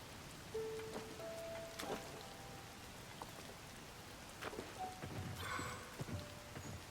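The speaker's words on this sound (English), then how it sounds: "of course it's raining again" Rain falls in Zelda: Tears of the Kingdom, a quiet steady patter with a few faint tonal game chimes drifting over it.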